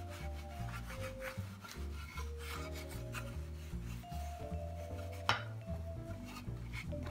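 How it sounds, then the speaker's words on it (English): A cloth wiping excess base coat off a wooden clock, heard as soft, repeated close rubbing strokes over a steady background of music, with one sharper knock midway. "Okay, I just wipe it all off."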